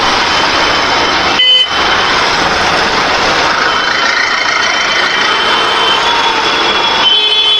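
A lorry traffic jam on a Kolkata road gives a loud, constant roar of truck and car engines idling and crawling close by, with horns honking over it and no talk.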